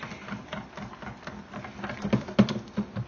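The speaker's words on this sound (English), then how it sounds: "you're just going to whisk this together, just like this" A whisk clicks rapidly against a bowl, mixing a rice wine vinegar dressing with quick, uneven taps and scrapes at close range.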